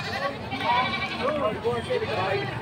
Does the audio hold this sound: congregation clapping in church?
no